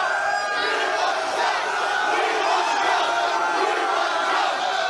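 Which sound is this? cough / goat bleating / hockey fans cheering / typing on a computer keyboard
hockey fans cheering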